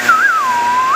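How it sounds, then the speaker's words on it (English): A person whistles a single close, clear, wavering tone lasting about a second, gliding down and then back up in pitch, with only a quiet steady background behind it. "can't whistle tonight"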